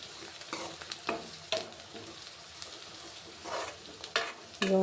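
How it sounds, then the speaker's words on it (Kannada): Curry leaves fry in a pan of oil with a soft, low sizzle. Several sharp scraping clicks from stirring break through at irregular intervals. "ಈಗ ಕರಿಬೇವು ಅಷ್ಟೇ ಫ್ರೈ ಮಾಡ್ಕೋಬೇಕು."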